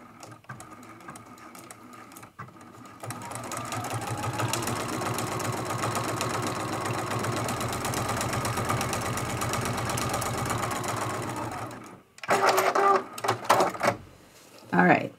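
A sewing machine stitches a Lamp Post art quilt with jumps between stitch lines, running in one long steady whir and then stopping and restarting in several short, close bursts.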